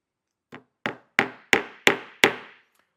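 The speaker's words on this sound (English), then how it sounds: "I'm going to be tacking this nail in, which means I'm going to hit it about halfway in." A hammer taps a nail halfway into wood while building a large cajón: six sharp strikes at a steady, slightly quickening rhythm, getting louder after the first light tap, close and alone.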